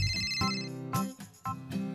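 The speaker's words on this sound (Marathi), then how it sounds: "तुझा फोन वाजतोय." A mobile phone rings with a bright, repeating electronic ringtone melody, close and clear, with no voices over it.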